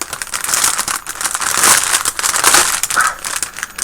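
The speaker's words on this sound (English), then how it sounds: "Noisy unbagging." A plastic bag crinkles and rustles close up as it is pulled open while a 1/35 scale ICM model kit is unboxed, a steady noisy crackling with no talk.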